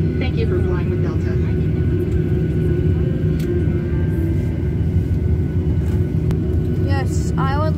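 Boeing 737 jet engines roar at a steady, heavy level in the cabin during takeoff, with a constant low rumble throughout and faint voices in the background.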